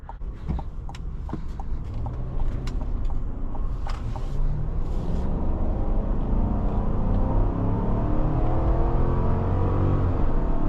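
A 2025 GMC Yukon XL AT4 Ultimate's 6.2-litre GM V8 revs and pulls hard while accelerating, its deep rumble building steadily with a few clicks and knocks early on.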